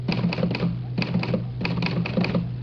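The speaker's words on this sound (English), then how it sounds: "I'll type it up for you right now." Typewriter keys strike in quick bursts of clacks with short pauses between runs, close and clear over a steady low hum, no voices present.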